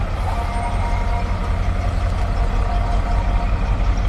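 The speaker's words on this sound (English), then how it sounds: "we have another Wellston Fire Department engine" A Wellston Fire Department fire engine rolls past in a Main Street Freedom Parade, its heavy diesel rumble loud and close, droning steadily without pause and with no voices heard.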